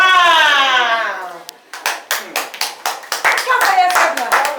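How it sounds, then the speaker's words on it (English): Young children at a school clap for themselves after a child's long cry-like vocal, a run of loud, close, rhythmic claps that builds steadily, with kids' voices mixed in. "Clap for yourself now."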